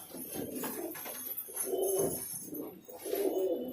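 Highflyer pigeons coo in a home loft, with repeated low, throaty rolling calls rising and fading in waves, several birds close by and fairly loud.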